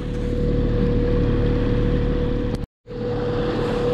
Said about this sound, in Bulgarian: Вече 2 часа сме го карали двигателя с 3000 оборота, както го пише в инструкцията.